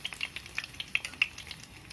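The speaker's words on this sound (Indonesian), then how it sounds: "Untuk slow frying seperti ini, jadi sedikit minyak tapi kita perlu membalik-balik" Food slow-fries in a small amount of oil while being stirred and turned, giving soft, irregular scraping and sizzling taps close by, quiet and free of talk.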